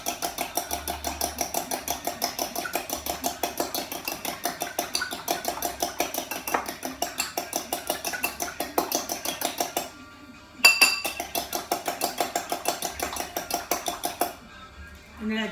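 Two eggs whisked in a bowl, a fast, steady, rhythmic clinking of whisk against bowl that runs almost the whole time with one short pause, with talk alongside.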